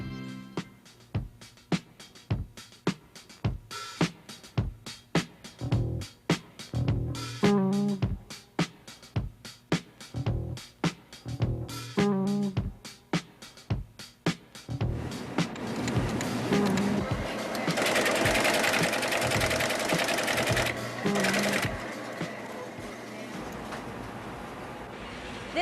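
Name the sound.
noisy computers running in a college computer center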